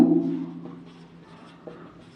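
Pen scratching out a handwritten journal entry for an accountancy lesson, faint short strokes and light scratches in a quiet room after a brief murmur of voice at the start.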